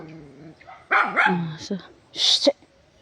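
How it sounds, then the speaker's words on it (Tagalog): A few dogs bark and yip nearby in short, uneven bursts, with a whimpering, whining tone between barks. "Ang ingay ng mga aso dito"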